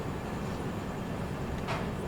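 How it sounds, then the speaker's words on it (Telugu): Cocanada SF Express rolling out of Rayanapadu station, a steady low rumble of wheels on rails heard from inside the carriage, constant and fairly faint with no voices. "మన బండి అయితే రాయనపాటి నుంచి డిపార్ట్ అయిపోయిందండి"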